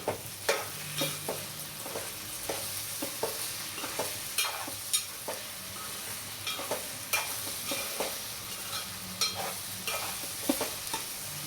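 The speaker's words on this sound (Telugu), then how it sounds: "వేసి ఒకసారి కలుపుకుందాం." A potato and carrot fry with turmeric and salt is stirred in a frying pan. Regular, close scraping strokes repeat every second or so over a gentle, continuous sizzle.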